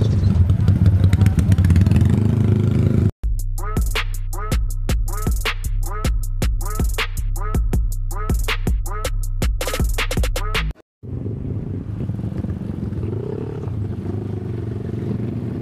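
A tuned RS125 four-valve motorcycle engine built by a speed shop rumbles loudly at close range, with a burst of sharp repeated revs in the middle, and no talk over it.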